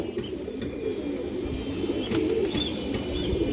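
Pigeons offered for sale coo in low, continuous murmurs, with a few brief wing flutters and clicks, close by and with no talk over them.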